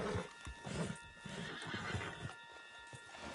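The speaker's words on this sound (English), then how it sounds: "Get him on the horse and let's go." A horse in the video game Red Dead Redemption 2 whinnies and its hooves clop in an uneven rhythm, close and moderately loud, with no talk over it.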